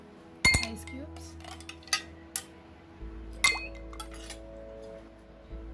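Ice cubes go into a glass while a cumin mint soda is being made. About half a dozen sharp, separate clinks are spread over a few seconds, close and fairly quiet against a still background.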